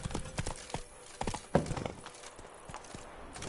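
Horse hooves clip-clopping at a steady trot in the video game The Witcher 3, with brisk rhythmic hoof strikes running through the short stretch and faint background ambience.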